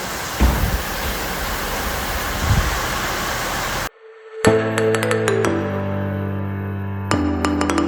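Steady rain falls as a dense, even hiss for about four seconds with a couple of soft thumps, then cuts off abruptly as tonal music takes over.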